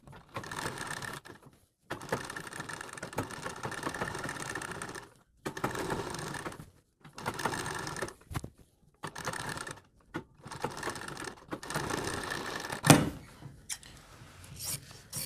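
Sewing machine stitching a coat collar, steady fast mechanical whirring in runs of a second or two separated by brief stops, close and fairly quiet.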